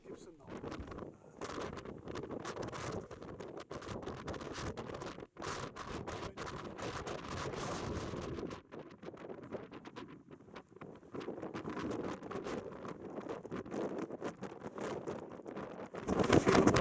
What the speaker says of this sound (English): It was very windy up here.